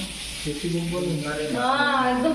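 Food sizzles steadily in a pan during outdoor cooking at a family picnic, a constant frying hiss running underneath several people chatting nearby.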